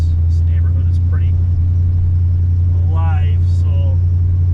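A 55-year-old Plymouth Duster with a 340 V8 engine and a manual reverse valve body rumbles steadily from inside the car while driving, a deep constant low drone, with people talking over it.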